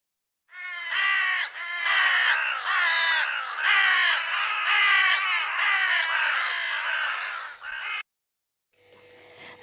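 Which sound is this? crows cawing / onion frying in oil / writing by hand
crows cawing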